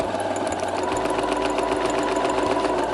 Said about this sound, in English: this is a home sewing machine